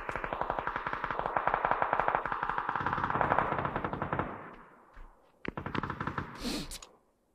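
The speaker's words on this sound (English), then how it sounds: "Okay, I just heard both of them shoot." Bursts of rapid automatic gunfire in PUBG rattle out for several seconds and echo. After a short pause, further shots and a sharp crack follow, then fade.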